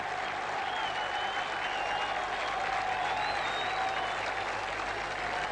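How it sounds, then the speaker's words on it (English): A packed football stadium crowd cheers and applauds continuously at a match near Athens, a dense roar of clapping and shouting with a commentator's voice faintly over it. "And the Greeks are cheering as loudly as indeed are the Londoners."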